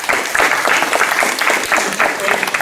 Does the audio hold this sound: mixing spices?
no